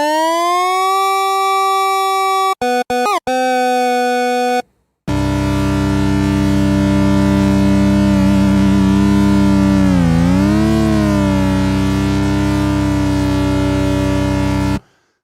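Synth One synthesizer app on iOS with its delay turned up: a loud buzzy held tone with stacked harmonics, a few stuttering cut-outs, then a long sustained note that wavers and sweeps in pitch before stopping.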